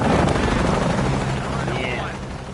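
Helicopter in the Shadow of the Tomb Raider video game, a steady rotor drone filling the scene with a loud wash, fading slightly toward the end.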